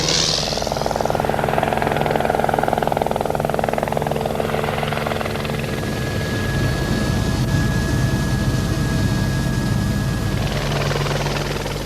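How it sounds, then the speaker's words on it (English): A privately flown jet helicopter, visiting a Hampshire manor house, roars steadily overhead with a thick, continuous engine and rotor drone that stays loud throughout. "A regular visitor, flying his own jet helicopter"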